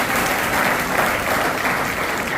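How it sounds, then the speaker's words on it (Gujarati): A crowd at a school parents' meeting applauds a board-exam topper. The clapping is loud, continuous and dense throughout, with no speech over it. "જોરદાર તાળી આપણે એમના માટે તાળી"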